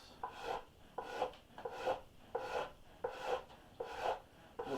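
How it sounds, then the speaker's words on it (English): A farrier's rasp files a carved wooden half hull boat model in steady strokes, about seven rhythmic push-and-pull rasps, quiet and close with no voices. "The farrier's rasp"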